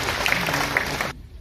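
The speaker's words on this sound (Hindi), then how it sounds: "जोरदार तालियां इस प्यारी दिवस के लिए।" An audience applauds at an interfaith conference in Kashmir, with dense, loud, steady clapping from a large crowd that cuts off abruptly near the end.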